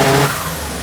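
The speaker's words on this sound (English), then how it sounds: "So that's on a rev limiter, that's all right." A big block engine running on a dyno, loud and harsh with a strong low roar that drops off sharply after a moment, consistent with cutting out at the rev limiter, then a lower sustained rumble.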